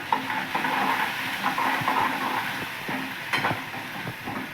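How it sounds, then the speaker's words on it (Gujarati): Chopped tomato and vegetables frying in a pan, a continuous sizzle with repeated spoon strokes and scrapes stirring them, close and steady. "આ બધી જ વસ્તુને આપણે મિક્સ કરી લઈએ પહેલાં"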